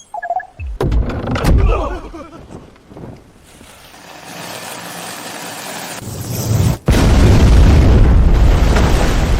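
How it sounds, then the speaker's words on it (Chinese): Cannon fire striking a ship's powder magazine and blowing the ship apart, heard as a heavy booming blast with a sudden sharp crack, then a loud sustained roaring rumble. "主船炸了，倭寇完了，冲！"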